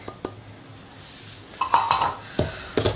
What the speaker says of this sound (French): On commence à mélanger le cacao et la cannelle.